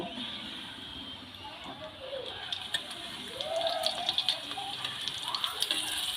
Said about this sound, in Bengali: এবার পরোটা উল্টে নেব